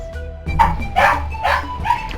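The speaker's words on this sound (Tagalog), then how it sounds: "Ang ingay ng aso, gagawin kong asesino mamaya." A dog barks several times nearby, with short yappy bursts spaced roughly half a second apart, standing alone without speech.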